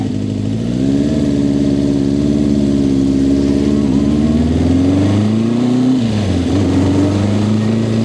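An older P-registration Suzuki Katana 550 motorcycle, low-mileage and running smoothly, on a short test ride round the block; the engine drones loud and close, revving up and easing off in steady sweeps with no talking.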